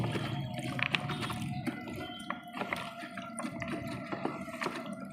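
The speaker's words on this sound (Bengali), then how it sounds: "ধুয়ে নিলাম আমি ডাঁটা কুমড়োগুলো ধুয়ে নিচ্ছি" Water splashes in a basin while stem vegetables and pumpkin pieces are washed by hand, with a continuous running trickle broken by irregular clinks, knocks and splashes close by.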